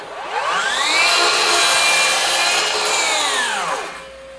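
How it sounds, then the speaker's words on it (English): FLEX 24V brushless 12-inch dual bevel miter saw (FX7141) with a 60-tooth blade spinning up, biting through wood and winding down over about four seconds, a loud close whine with a dust extractor running underneath. "Turned our dust extractor on, so it may be a little loud"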